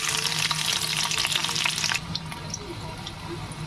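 Garlic and cumin sizzle loudly in hot oil in a kadhai as a mixed vegetable dish is started. The frying hiss is steady and close, then eases slightly partway through.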